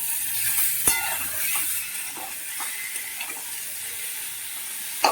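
Salted food frying in a pan as it is stirred, a steady sizzle with scraping strokes and a couple of sharp clinks, fairly close and with no talking.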